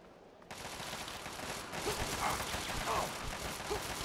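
Bursts of gunfire in Fallout 3, a sustained noisy fusillade that starts abruptly and continues under a loud, cluttered battle soundscape.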